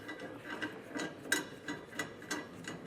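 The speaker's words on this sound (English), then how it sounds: "I am just using a ratcheting wrench here to get this out" A ratcheting wrench loosens a bolt while a Class V trailer hitch goes onto a 2024 Ram 1500, giving quiet, evenly spaced ratchet clicks in a steady back-and-forth rhythm with no talking.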